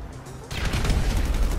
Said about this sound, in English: How did that explosion not kill me?